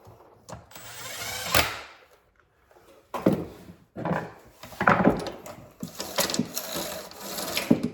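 Nuts are tightened onto the studs holding a firewood saw bar and spacer, with close ratcheting and scraping metal clicks in uneven bursts, separated by brief quiet gaps.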